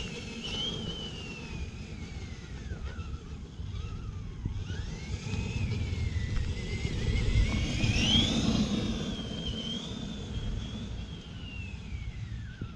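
A Cobra Kai SMT10 RC monster truck drives continuously, its electric motor whining with a rising and falling pitch as it speeds up and slows, steady and close throughout with no talking.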